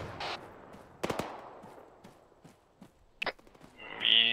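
Rooftop machine gun fire in the ArmA 3 video game arrives as a few sharp, scattered bursts and single cracks over a quiet background, sounding moderately distant.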